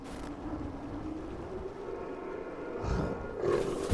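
A huge dog in the video game Indika lets out a deep, rumbling, big-cat-like roar that swells louder toward the end, sustained and growling with no talk over it.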